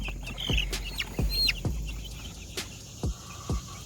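Young chicks in a crowded brooder, several sharp clucks and peeps in irregular succession, close and fairly clear against a quiet background.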